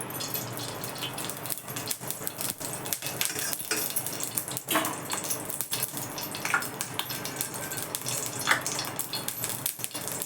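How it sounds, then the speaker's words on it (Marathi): A spoonful of ghee heats in a pan for paan modak, giving a soft continuous sizzle with occasional light clinks of utensils, fairly quiet and without talk. "मी पॅन ठेवला आहे बघा चमचाभर तूप घालते मी"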